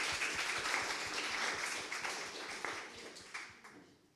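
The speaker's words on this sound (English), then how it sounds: "Round of applause for her." A conference audience at a nursing history meeting claps for a speaker: a steady, faint patter of many hands that fades out toward the end, with no voices over it.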